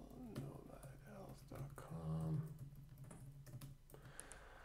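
Typing on a computer keyboard while setting up a WordPress site, soft scattered key clicks running under continuous nearby talk.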